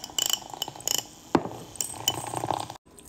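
Iced coffee being stirred in a glass, with bright clinks of spoon and ice against the glass coming in quick bursts, a sharper knock midway, then a brief drop to near silence at the end.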